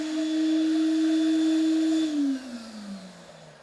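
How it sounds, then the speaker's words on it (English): An ANIVAC multi-use cleaning system vacuum runs with a steady, fairly loud motor hum, then winds down and fades in pitch after about two seconds as it is switched off. "The unit's not crazy loud, but it is a vacuum."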